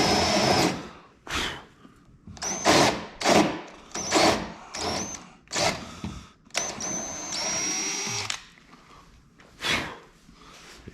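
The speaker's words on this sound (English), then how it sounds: "It is cutting very quickly through the fiberglass" Repeated bursts of a powered drill biting through the fiberglass body of an FFR MkIV Roadster, loud and close, with short high-pitched whining runs separated by brief pauses, roughly ten pulses in quick succession.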